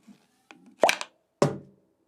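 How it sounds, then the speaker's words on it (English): Two sharp hollow knocks of a pop gun's handle striking its tube, preceded by faint shuffling, with a pause between the hits; close and fairly loud. "you hear this handle hitting the tube"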